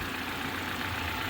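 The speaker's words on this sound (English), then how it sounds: "Engine sound is good" A BMW 530e petrol-electric with a B-series engine idles steadily after an oil filter housing and coolant leak repair, giving a close, even hum with no other sounds.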